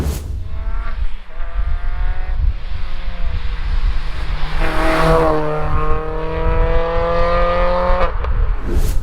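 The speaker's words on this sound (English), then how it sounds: "It feels like I'm gassing this car up for no reason" A naturally aspirated, road-legal Renault Clio rally car revs hard, its engine note climbing and falling through strong rising and falling sweeps, loud and close with no voices over it.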